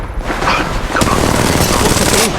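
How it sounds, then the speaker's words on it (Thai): Gunfire in the mobile shooter Apex Legends Mobile crackles in rapid overlapping bursts, loud and close, with a sharp report near the middle and dense battle noise throughout. "กำลังมีคนยิงมาที่ฉัน"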